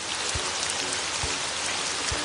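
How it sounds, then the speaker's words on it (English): Steady rain falling, a constant close hiss of spread-out patter with a few soft low thumps from heavier drops at regular intervals. "Just then, it began to rain."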